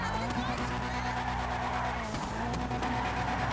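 Tires squeal as an Annis Hardy four-door saloon drifts in GTA 5, a steady engine drone and skidding hiss running continuously at close range, with talk over it.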